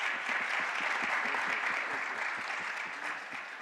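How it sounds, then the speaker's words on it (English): A conference hall audience applauds the speakers with dense, sustained clapping that fades slightly toward the end. "let's give the speakers a great applause"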